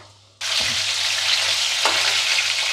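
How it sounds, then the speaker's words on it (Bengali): Homemade crispy fish fingers fry in a shallow layer of oil, a loud, dense sizzle bursting in suddenly after a quiet moment and holding steady close by, with a couple of brief scraping stirs. "বাকি দুটো আরেকটু ভালো ভাজা হবে।"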